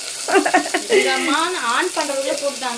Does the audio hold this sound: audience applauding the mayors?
no